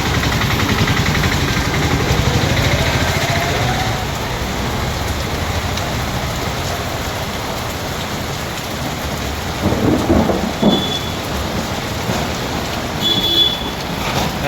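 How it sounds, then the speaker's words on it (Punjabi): Heavy rain pounds down loud and constant, with a deep rumble of thunder rolling beneath and a few louder bursts partway through. "ਚੰਗੇ ਜ਼ੋਰ ਨਾਲ ਆ ਗਿਆ ਮੀਂਹ"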